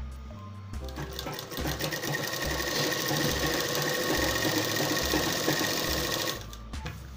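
Sewing machine stitching a hem strip on fabric for designer shorts, running steadily and loudly for about six seconds with a rapid mechanical chatter, starting and stopping with short pauses at each end.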